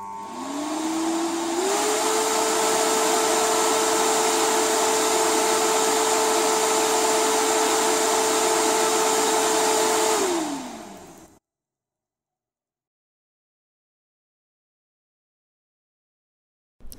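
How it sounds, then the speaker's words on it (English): Motorcycle engine cooling fan switched on by a diagnostic tool's output test: a steady whirring rush that rises in pitch at the start, holds for about nine seconds, then winds down and stops, followed by silence. "Again, you'll hear the fan when it's actuated."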